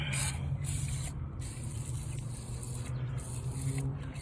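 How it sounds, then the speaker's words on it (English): A spray bottle sprays weed killer: a steady hissing spray runs continuously at close range, with brief pauses in the mist and a low mechanical hum underneath. "Now I keep the nozzle more direct spray when I'm doing this."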